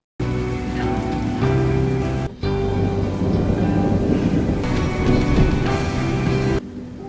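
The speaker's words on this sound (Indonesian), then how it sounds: "Helena juga baru pertama kali melihat dan merasakan yang namanya hujan." Rain falls in a steady, dense hiss that fills the scene, with sustained musical tones underneath and brief dropouts near the start and end.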